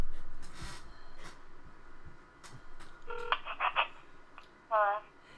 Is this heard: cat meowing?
no